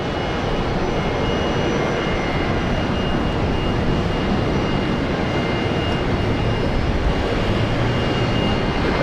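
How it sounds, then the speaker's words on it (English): A Qantas airliner lands on runway 19 left at Brisbane Airport, a constant broad jet roar that holds steady for the whole stretch with no voices over it. "let's rate this landing, a Qantas butter machine landing"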